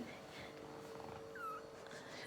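A domestic cat purrs softly at home, a faint low continuous rumble close by, with quiet voices and light household background around it.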